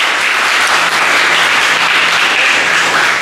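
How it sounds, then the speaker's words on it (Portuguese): Church congregation applauding during a sermon, loud continuous clapping from a large crowd that stays even and full throughout with no pauses. "Vamos aplaudir o Senhor Jesus"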